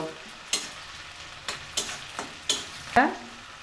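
Onions with two chillies frying in a pan for potato fry, heard as a low sizzle broken by several sharp stirring scrapes and knocks spaced about half a second to a second apart.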